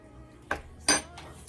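A spoon clinks against a bowl of freshly mixed homemade mayonnaise, giving two or three short, bright clinks up close in an otherwise quiet room.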